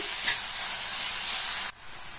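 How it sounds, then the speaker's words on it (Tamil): Tomatoes with salt being sautéed in a pan for a brinjal kara kuzhambu, giving a steady loud sizzle with stirring that drops off sharply near the end. "இந்த தக்காளி நல்லா வதங்கி மசிஞ்சு வரட்டும், அது வரைக்கும் வதக்கிக்கலாம்."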